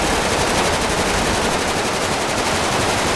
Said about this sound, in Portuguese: Ah, tem tiro até de pistola.